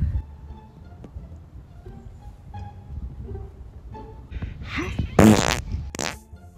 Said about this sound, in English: You mind if I fart, bro?